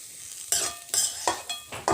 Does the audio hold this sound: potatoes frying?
yes